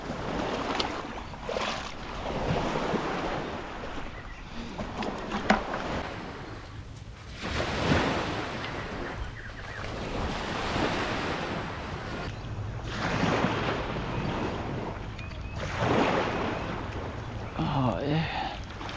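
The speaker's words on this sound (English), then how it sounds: "Water's a bit rough today." Choppy sea water slaps and washes around a small boat out prawning on a rough day, with rhythmic surges and wind buffeting the microphone. Someone talks now and then over the water.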